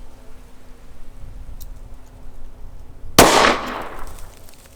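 A single sharp gunshot from .38 Special +P ammunition fired on a shooting range, close and loud, ringing out after a quiet stretch with faint background noise and no talking.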